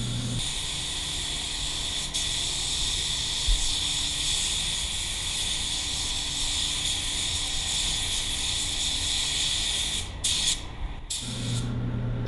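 Tecna spray gun spraying waterborne paint at 22 psi, a steady loud airy hiss sustained for most of the time, briefly cutting out twice near the end before resuming.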